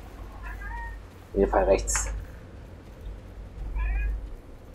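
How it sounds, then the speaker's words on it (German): A house cat meows insistently at close range, with a loud drawn-out yowl in the middle and a shorter meow near the end, while someone talks over game-like background sounds. "ist jedes Mal das Welpertheater mit der Katze"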